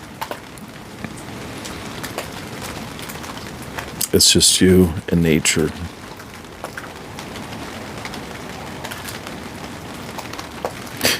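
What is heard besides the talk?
rain falling during a storm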